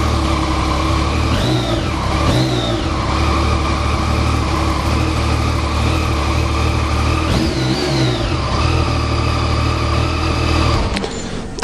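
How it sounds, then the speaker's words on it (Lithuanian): A Yamaha MT-09 three-cylinder motorcycle engine idles close by and blips its throttle in sharp revs, two quick pairs of rising surges, then settles back to a steady idle. "garsas tai grinai kaip tricilindrio variklio"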